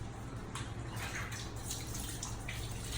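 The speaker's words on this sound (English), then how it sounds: "Shower him now." Shower water runs steadily while a rescued roadside puppy is bathed, a continuous close splashing hiss with faint irregular drips and no talking.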